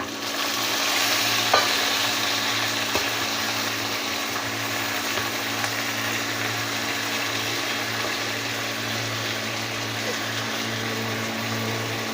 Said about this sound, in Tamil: தக்காளி மிளகாய் வெங்காயம் எல்லாம் சேர்ந்து ஒன்றா வதங்குது